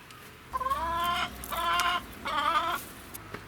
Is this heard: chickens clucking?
yes